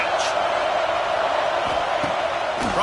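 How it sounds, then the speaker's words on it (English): A dense stadium crowd in a college football video game, Auburn versus Tennessee, roars steadily at high volume throughout, a constant broadband wash with a few brief sharp accents, heard alone without distinct voices. "this crowd is at fever pitch"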